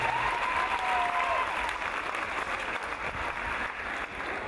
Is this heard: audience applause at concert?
yes